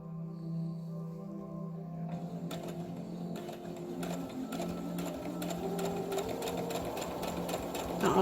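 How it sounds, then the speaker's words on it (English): A sewing machine stitches ruffles onto children's pants, its motor humming steadily before a rapid, even needle chatter starts and continues at a slow, close pace. "I always try to sew close to this edge, not too close, because then it'll actually come over off of it"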